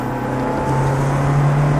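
A Ferrari F430 engine roars steadily and close at full throttle on a track, holding a strained, rising drone throughout with no voices.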